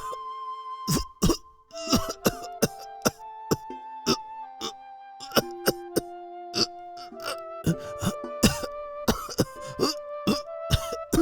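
A string of sharp, short coughs repeats irregularly, loud and close, over steady background tones.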